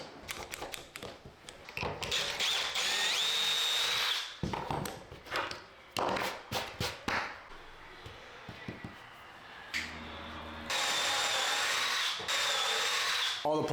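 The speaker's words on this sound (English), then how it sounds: "Now I'm going to use this pocket hole jig, the drill bit, and a clamp to do pocket holes all the way around each panel." A drill driving a bit through plywood held in a pocket hole jig with a clamp, several loud whining bursts of drilling separated by short pauses and handling clatter, with a voice talking briefly in places.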